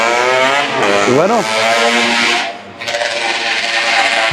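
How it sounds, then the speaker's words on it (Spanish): Motorcycles pass through a Spanish village street, loud and close, with engines revving and rising and falling in pitch as they go by, then a brief lull before another engine returns. "nunca faltan las motocicletas"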